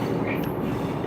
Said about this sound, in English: The train is a big one, and it's pretty loud at the moment.